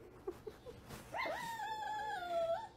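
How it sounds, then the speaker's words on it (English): A dog whimpers and yips: a few short soft sounds, then a drawn-out high, wavering whine that slides downward, close and fairly quiet. "Poor doggy."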